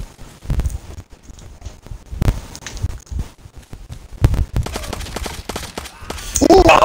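Video game gunfire sounds as irregular sharp shots, near and fairly loud, scattered across the stretch, with faint footsteps and rustling between them and a denser burst of shots at the end.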